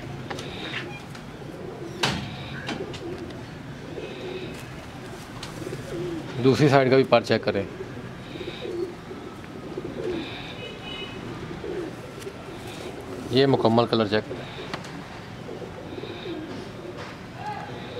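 Jounsra pigeons are handled at close range, giving two bursts of rolling, throaty coos while someone speaks throughout and wings or hands rustle.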